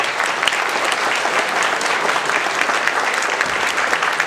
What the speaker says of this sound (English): join me in giving one more round of applause to the candidates who shared their time with us today